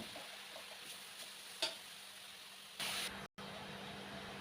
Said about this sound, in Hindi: मैं गाजर का हलवा छौंक दी हूँ मतलब घी में डाल के भून रही हूँ धीमी आंच पे